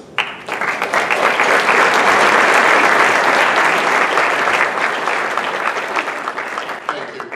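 An audience applauds at an award acceptance event, with loud, dense, sustained clapping that swells quickly and holds steady for several seconds before easing slightly.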